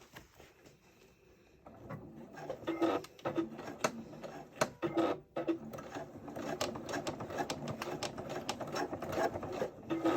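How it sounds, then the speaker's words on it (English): A sewing machine stitches slowly along a straight edge in irregular bursts of rapid mechanical ticking, pausing and restarting, close and moderately loud. "I'm just going to start stitching"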